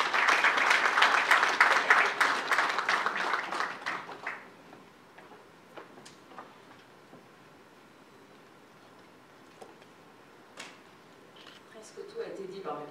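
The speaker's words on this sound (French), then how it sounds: "Sous vos applaudissements," An audience at a formal investment-promotion ceremony claps in a dense burst for about four seconds, then the applause dies away into a quiet room with a few scattered ticks and shuffles.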